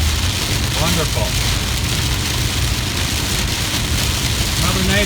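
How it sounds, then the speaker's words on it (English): Heavy rain pours in a loud, constant outdoor wash of noise, with a voice talking briefly over it. "Yeah, it's pouring rain."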